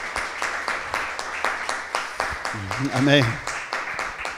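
A church congregation applauds together in steady, even clapping throughout, with a voice speaking over it near the middle.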